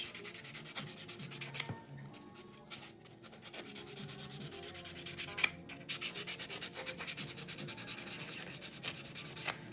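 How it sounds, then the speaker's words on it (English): A coarse nail buffer rubbing across a fingernail in short, scratchy back-and-forth strokes, faint and close, with quiet pauses between passes and no talking. "This is a coarse buffer."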